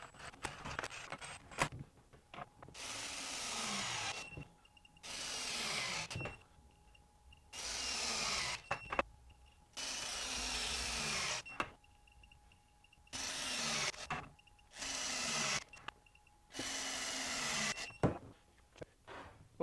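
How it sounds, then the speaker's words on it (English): A compact cordless impact wrench (DeWalt DCF921 or Milwaukee M18) in reverse on power mode 3 retorques bolts: loud, close bursts of hammering rattle lasting one to two seconds each, about eight in a row with short pauses between. "So we're in mode 3 and we're in reverse. So let's get started. Well, let's go ahead and retorque our bolts."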